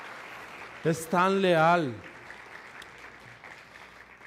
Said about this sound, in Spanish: Podemos darle un aplauso porque es tan fiel